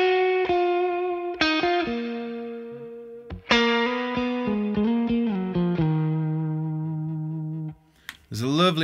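An electric guitar played through a Victory V4 Duchess amp with reverb turned fully up rings out in sustained single notes and chords, each decaying in a long reverberant tail, with a brief slide near the end.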